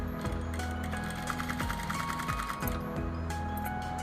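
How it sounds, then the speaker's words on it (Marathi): A sewing machine stitches piping along a round neckline of fabric, running continuously with a fast, even mechanical whir and rhythmic clatter, close and steady throughout without talk. "आता बरोबर आपल्याला याच्यावरती एक टीप मारून घ्यायची आहे"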